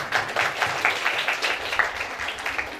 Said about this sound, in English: I want a big clapping for him.